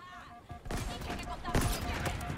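Gunfire from the video game Halo Infinite, a dense fusillade of rapid shots and blasts that lasts the whole moment, loud and close.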